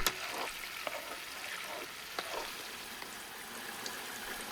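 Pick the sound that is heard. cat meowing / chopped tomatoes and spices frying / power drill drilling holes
chopped tomatoes and spices frying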